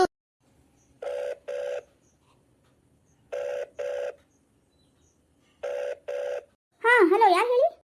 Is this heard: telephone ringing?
yes